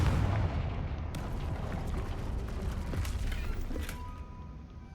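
A Confringo fire spell blasts off in the Hogwarts Legacy video game, a loud rumbling burst with crackling debris over a dense low roar, settling into a sustained noisy wash.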